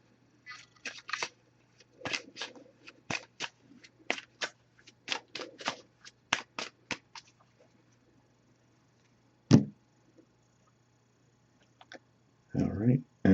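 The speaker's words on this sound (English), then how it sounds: "So I'm just going to give this a few shuffles now." An oracle card deck shuffled by hand, crisp quick riffling clicks in short bursts over several seconds, then a pause and a couple of louder card taps and rustles near the end, with no talking.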